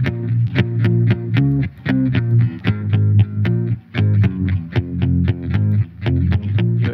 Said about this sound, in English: put a bass amp on this electric guitar